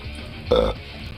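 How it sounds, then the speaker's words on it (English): A single short, loud burp, close by, in an otherwise quiet room. "Nice burp."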